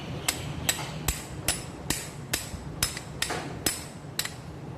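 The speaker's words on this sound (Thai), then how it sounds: "ทีนี้เราเอามาใช้ค้อนเนี่ยตอลงไป" A hammer taps a pin into a skim coat sprayer pump about eleven times in a steady, even rhythm, each strike sharp and close.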